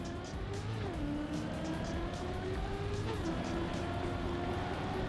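Car in the TrackMania racing game, a continuous engine drone with rising and shifting pitch as it accelerates, steady and fairly loud, with faint tire noise and a voice talking underneath.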